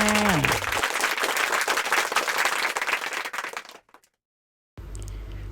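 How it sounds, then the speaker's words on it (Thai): A burst of applause from a small group, steady clapping for a few seconds that fades out into brief silence before a low tone resumes. "ปรบมือให้กับเด็กเก่งทุกคนเลยค่ะ"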